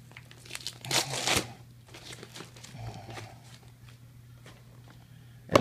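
A heavily taped cardboard mail box being opened, with a loud burst of tearing and crinkling near the start, then quieter scraping and rustling, and a sharp rip at the very end.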